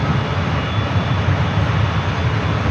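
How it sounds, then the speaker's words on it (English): A jet airliner takes off at San Francisco airport, producing a steady, broad engine roar that fills the whole moment at moderate distance, with no talking. "There's takeoff."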